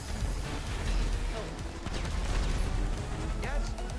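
Video game gunfire crackles in a dense, continuous burst of shots and blasts, loud and steady throughout with a busy mix of explosions, while players talk excitedly over it.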